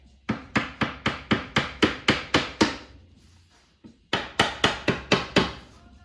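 A hammer taps sharply and close up on a Chevy C10 door glass being seated, in two quick, even bursts, about nine taps, a short pause, then six more.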